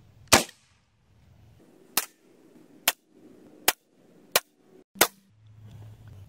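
A semi-automatic, regulated FX Monsoon PCP air rifle firing pellets: six sharp, close cracks spaced roughly a second apart, with a faint hum in the quiet stretches between them.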